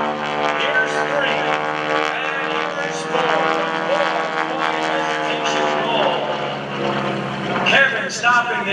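Kevin Russo's aerobatic propeller airplane drones loudly overhead at the Greenwood Lake airshow, a steady buzzing engine tone that rises and falls slightly through the maneuver, with a voice talking over it.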